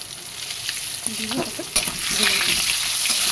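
Potato pieces with turmeric and salt fry in oil for a meat curry, a loud, steady sizzle that builds toward the end while someone speaks briefly over it.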